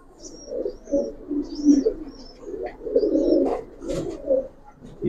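Pigeons of the Giribaz breed coo close by in soft, repeated throaty bursts, with faint higher chirps and rustles between calls and no talk.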